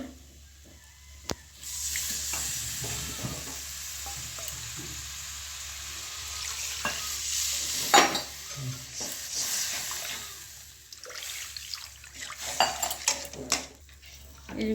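Water goes into a fried spice paste in a pan, bringing bursts of sizzling and bubbling along with clinks and scrapes of a spoon against the pan. No one speaks.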